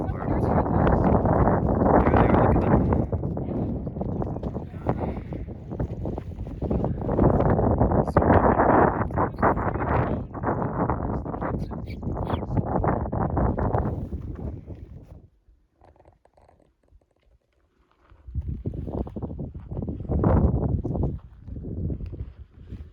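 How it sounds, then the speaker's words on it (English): Strong wind gusts buffeting the microphone on a mountain trail in Jasper along the Skyline Trail, a loud, roaring rush that drops into a brief lull before surging again. "Getting our first big gusts of wind here"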